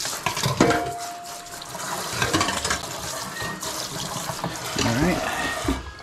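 A kitchen sink tap runs as a utensil is rinsed under it, a steady splashing stream with people talking over the water.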